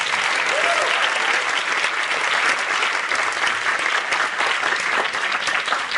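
An audience at the New York premiere of a documentary breaks into loud, sustained applause, a dense wash of clapping that holds steady from start to finish with no speech over it.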